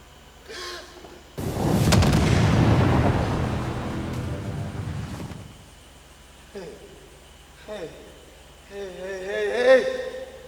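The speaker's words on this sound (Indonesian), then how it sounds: "Adakah suara ledakan yang kudengar adalah suara bom?" A sudden heavy boom erupts and rumbles for several seconds before fading, followed by voices speaking.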